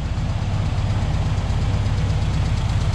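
A 1964 Volkswagen Beetle Deluxe with a 4-speed manual idles steadily and close by, a low, even air-cooled putter that holds for the full length with no talking over it.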